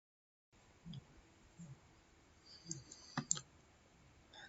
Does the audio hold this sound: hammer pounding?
no